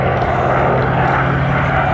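A warbird's big twin-row radial engine drones in flight at an airshow, a loud, steady, throbbing propeller roar that holds continuously throughout.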